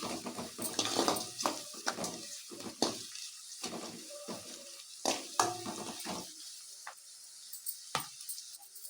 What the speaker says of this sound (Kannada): ಅರಿಶಿನ ಹಾಕ್ಕೊಂಡು ಚೆನ್ನಾಗಿ ಮಿಕ್ಸ್ ಮಾಡ್ಕೊತೀನಿ